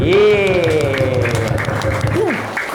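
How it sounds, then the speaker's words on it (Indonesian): Children clap together during an Islamic storytelling session, a busy patter of small hands running under a loud, sing-song adult voice that dominates throughout. "Tepuk tangan semuanya."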